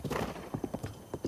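Horse hooves clip-clop in Zelda: Breath of the Wild, a run of rhythmic thuds, close and fairly loud, with a faint whinny mixed in and no talk over them.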